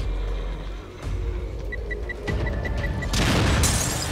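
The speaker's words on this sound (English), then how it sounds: "That was dynamite!" A dynamite explosion in the video game The Evil Within booms loudly, preceded by a short series of beeping tones and rumbling, with the blast rising broad and strong at the end.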